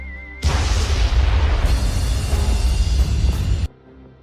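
A grenade blast in an action film bursts in as one loud, sustained boom with a heavy rumbling low end, holding for about three seconds before cutting off abruptly.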